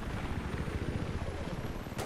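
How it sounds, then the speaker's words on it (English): A helicopter in Battlefield 3, a steady rumbling drone with a low thumping pulse, heard amid background battle noise and with no talk. "Why was there a helicopter there?"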